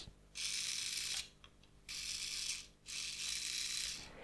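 Quiet bursts of high, hissing whir from the small motor and speed controller of an SNT Mix Go MG117 1/43 RWD RC touring car, spinning up and down in three pulses, with brief gaps between, nearby and faint.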